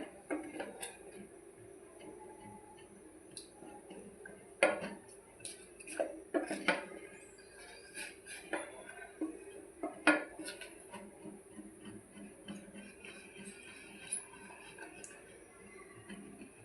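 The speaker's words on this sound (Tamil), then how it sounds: "இதை அடுப்பில் ஏற்றி வச்சு இந்த மாவை கிண்டிடலாம்" Flour dough being stirred in a pot on a stove, with quiet scraping and scattered metallic clinks of a utensil against the pan, irregular and close but faint.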